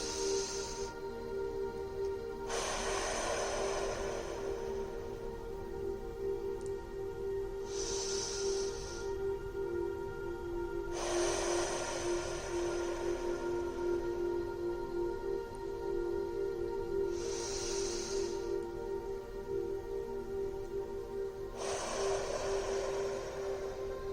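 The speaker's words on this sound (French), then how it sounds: "Nous allons pouvoir effectuer quelques respirations." Slow, deep breaths during a guided relaxation exercise, each long airy inhale and exhale rising and fading in a steady rhythm over a constant low background hum, about five breaths, close and fairly soft, with no talking.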